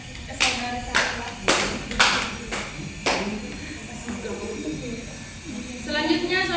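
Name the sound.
classroom clapping for a student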